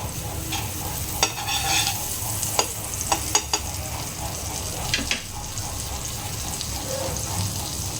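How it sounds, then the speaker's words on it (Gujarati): Bread slices toasting in butter on a flat tava for garlic bread, a soft steady sizzle with several sharp clicks and scrapes of a spatula against the pan in the first half. "બ્રેડને આપણે શેકી લેવાનું છે બટર નાખીને"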